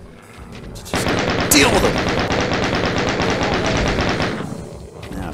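A chaingunner enemy in a Doom-style shooter lets off a long, loud burst of rapid-fire shots that ends abruptly, while someone speaks briefly over the gunfire.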